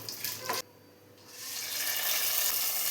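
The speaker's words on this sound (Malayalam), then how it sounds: "ഇനി നമുക്കിത് കറിയിലോട്ട് ഒഴിച്ചു കൊടുക്കാം" Hot mustard-seed tempering poured into Kerala papaya curry gives a brief sizzle and splash, then a longer steady hissing sizzle that swells and holds, close and fairly loud.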